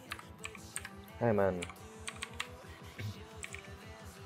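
Keys clatter on a computer keyboard while someone types code, a quick run of close taps beneath intermittent speech, with one louder burst of sound partway through.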